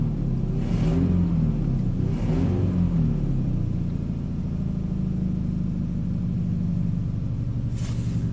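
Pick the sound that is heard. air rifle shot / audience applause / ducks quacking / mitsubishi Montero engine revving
mitsubishi Montero engine revving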